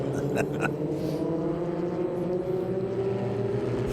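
A pack of historic Formula Ford race cars jostles around a circuit during a speed festival race, engines droning steadily with layered tones from several cars, with a brief voice-like burst near the start.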